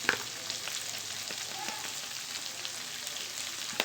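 Dried fish frying in a pan with salt added, giving a soft, steady sizzle with small crackles and a faint stir partway through.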